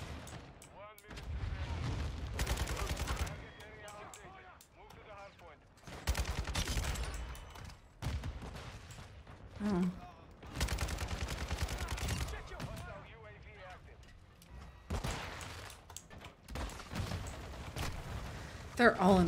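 A light machine gun fires in a first-person shooter video game, loud sustained bursts of rapid automatic fire broken by short gaps, with a player talking over the shooting.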